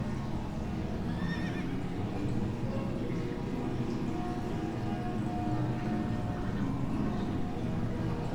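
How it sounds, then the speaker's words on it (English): Horses whinnying and hooves clip-clopping within a layered outdoor soundscape, the calls faint and distant over a steady dense ambient bed that runs throughout. "now here we got some horses"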